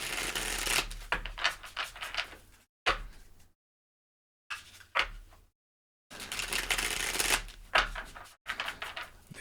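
Zebra-print tarot cards are shuffled in several quick bursts of riffling and flicking, close and crisp, separated by short silent pauses.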